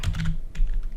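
Rapid clatter of computer keyboard keys typing out a domain name, close and crisp in two quick bursts with a short pause between, no voices.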